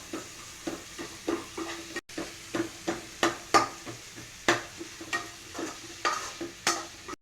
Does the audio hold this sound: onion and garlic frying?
yes